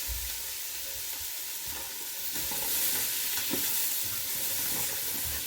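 Mushrooms are added to a pan with softened leftover beef and stirred, a soft sizzle under scraping and stirring of a spoon, steady and close.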